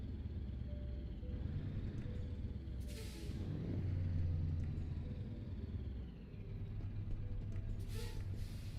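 Custom engine sound on a Renault truck in a truck driving game, a low steady droning rumble throughout with a brief hiss and a shift in tone partway, no voices.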